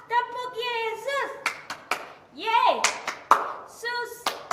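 A church congregation claps a few sharp, scattered times between chanted and sung voices.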